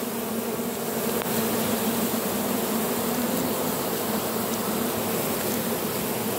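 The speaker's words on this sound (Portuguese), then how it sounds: "Tem bastante abelha, mas o enxame está dominado, está sossegado." Swarm of European honey bees buzzing loudly and continuously up close, a dense, even drone with no pauses and no talking.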